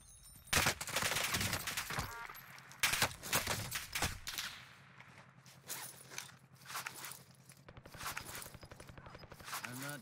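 Gunfire from a GRAU 5.56 assault rifle rings out in Call of Duty Warzone, with sharp bursts of close shots in clusters and then a rapid automatic volley near the end, mixed with footsteps and gear rustle.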